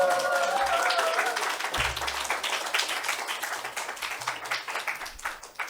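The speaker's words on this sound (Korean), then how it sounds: "우리 김인기 목사님, 세계적인 선교사님 등단하시게 박수로 환영해 주시기 바랍니다." A church congregation claps to welcome a missionary pastor to the pulpit at a sending service. The clapping is brisk and dense at first, then thins into scattered claps and dies away toward the end.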